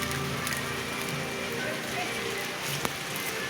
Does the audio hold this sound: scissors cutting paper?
no